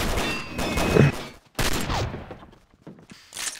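Heavy revolver shots from an Anaconda 8 inch in a video game, several loud sharp cracks in quick succession with short gaps, followed by quieter game effects.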